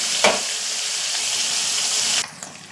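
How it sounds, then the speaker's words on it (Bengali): Fish fry in oil with a loud, steady sizzle throughout, a sharp crackle at the start and the hiss easing slightly near the end. "আর বাকি মাছগুলো ভেজে নেব"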